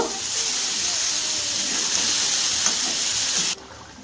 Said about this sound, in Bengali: এখন আমি এর মধ্যে দেব মটরশুঁটি, ভেজে রাখা পনির, একটুখানি নেড়ে নেব